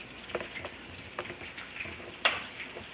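Mushrooms and fries sizzling in hot frying oil, a soft steady crackling hiss with scattered pops and ticks, quiet and close with no talking.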